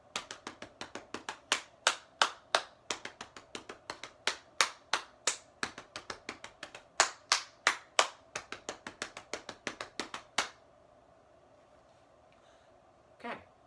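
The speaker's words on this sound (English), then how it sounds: "we're clapping titis, which are a little bit slower than the tiki-tikis" Rhythmic hand clapping of ta and titi rhythm patterns for a children's music exercise, crisp close claps in steady patterned groups for about ten seconds, then silence and one last faint clap.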